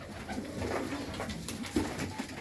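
High-flyer pigeons coo softly and repeatedly nearby, their low throaty calls overlapping with faint background noise.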